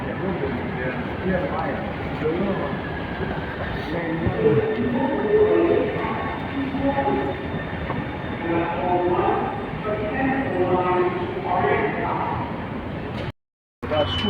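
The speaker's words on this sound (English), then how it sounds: "on the last leg of the journey, a little tiny little train" A small train rumbles and rattles steadily along the track while people talk over the continuous noise.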